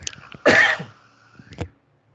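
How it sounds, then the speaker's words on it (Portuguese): One sharp cough bursts out loud and close, followed by a softer second cough and a few small throat sounds, from a presenter speaking at a meeting with a projector. "Só porque eu falo demais agora, eu comecei a tossir"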